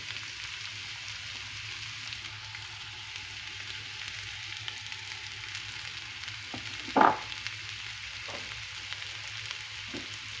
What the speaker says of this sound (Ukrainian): І нехай смажиться десь хвилиночок 6.